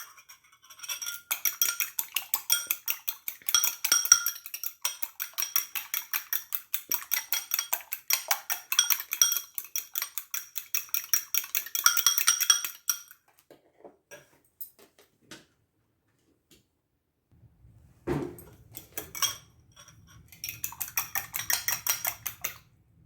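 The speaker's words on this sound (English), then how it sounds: "So now we'll go ahead and beat our 2 eggs." Two eggs are beaten in a bowl for a sweet potato casserole, with rapid rhythmic clinking of a utensil against the bowl that is close and steady, pausing midway before resuming in shorter bursts.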